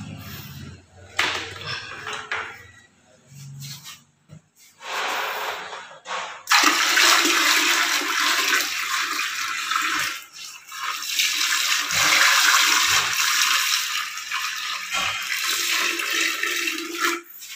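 Water is poured into a toilet bowl. A few seconds of quiet knocks and handling come first, then a loud, sustained splashing gush that lasts for over ten seconds.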